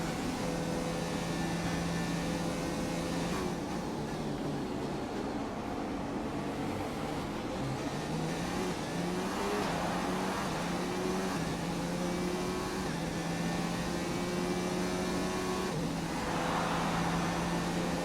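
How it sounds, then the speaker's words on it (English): Formula 1 race car engines in a racing video game, a steady high-pitched engine whine rising through gear changes over several stretches, with constant background hum and no talk. "there are the 2 Ferraris ahead of Vettel and Leclerc, so I am catching up"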